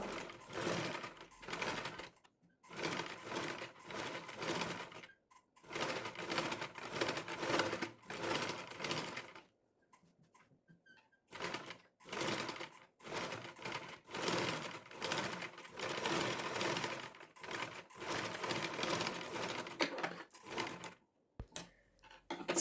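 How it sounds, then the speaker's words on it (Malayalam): A sewing machine slowly stitches a boat or square neckline, running in repeated bursts of rapid needle clatter with brief pauses between them, close and fairly quiet, with no talking. "പതുക്കെ പതുക്കെ സ്റ്റിച്ച് ചെയ്തെടുക്കുക ഒരുപാട് സ്പീഡിൽ പോകാതെ പതുക്കെ പതുക്കെ തയ്ച്ചെടുക്കുക"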